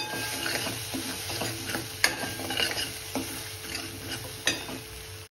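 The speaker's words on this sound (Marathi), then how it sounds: "आता कांदा टोमॅटो छान परतलेला आहे." Onion and tomato frying in a pan for prawn masala, a continuous close sizzle with repeated spoon scrapes and a few sharp clinks against the pan.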